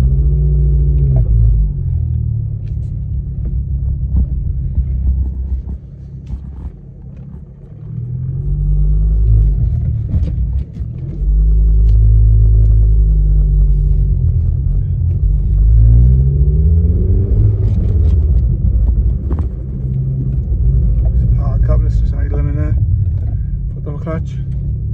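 A Ford Focus ST225's engine rumbles steadily while driving, with small rattles and clicks from CDs loose in the door pocket, and a voice talks over it.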